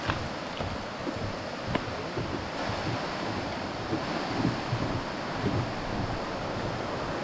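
River flowing below a rainforest suspension bridge in Costa Rica, a steady broad rushing wash mixed with wind buffeting the microphone, faint and continuous.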